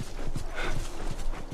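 Horse hooves clip-clop in The Last of Us, a steady rhythmic patter of moderate loudness that runs under a dense game soundscape.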